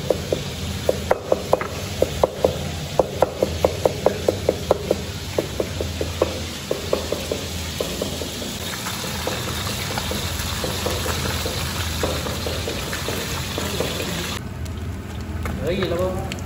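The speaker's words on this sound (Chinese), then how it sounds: "稍微煎黄一点就行了，外酥里嫩。" Fish caught by net sizzles as it fries golden in a pan with ginger shreds, a steady crackling hiss with rapid bursts of popping spatter early on, while people talk nearby.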